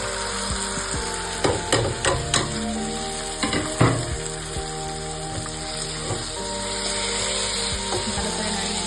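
Spiced oil sizzles steadily in a pan as fried soybean chunks are stirred, with a run of sharp scraping clacks from the spoon scattered through the continuous frying hiss.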